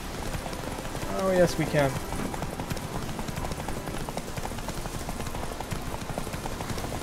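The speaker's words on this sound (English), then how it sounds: "At least I'm riding Roach." Hooves clip-clop steadily as the player rides the horse Roach in The Witcher 3, with a continuous rhythmic gait under a short spoken remark.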